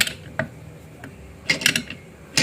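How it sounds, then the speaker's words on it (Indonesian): A wrench tightens a part on a homemade metal tool, making several sharp, close metallic clicks and clacks at uneven intervals, including a quick cluster of taps in the middle. "selanjutnya kita kencangkan memakai kunci"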